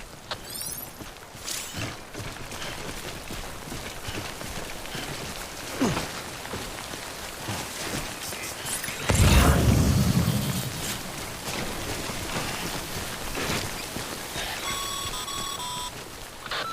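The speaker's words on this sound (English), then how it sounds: "Don't stay out in the rain any longer than you have to." Timefall rain in Death Stranding hisses steadily across the whole stretch, with a heavier surge of rumbling wash around the middle and faint electronic beeps near the end.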